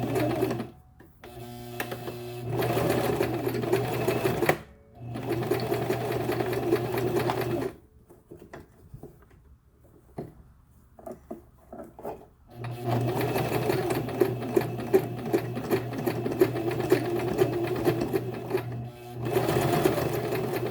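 A sewing machine stitches a wig in close, loud rapid bursts, running for a few seconds, pausing, then running again in a longer stretch, with quiet gaps between the runs.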